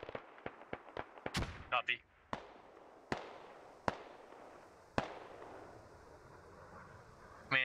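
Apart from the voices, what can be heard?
gunfire in a military video game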